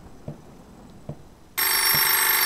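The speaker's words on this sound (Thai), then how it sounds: "โทรศัพท์ดัง" In the horror game Apartment 666, a telephone suddenly starts ringing loudly, a sharp bright electronic ring that cuts in after a few soft thuds that sound like footsteps.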